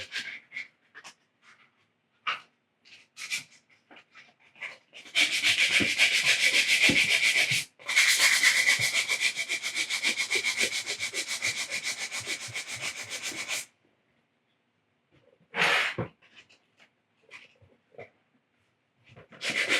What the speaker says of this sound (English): we're gonna sand this down a little bit.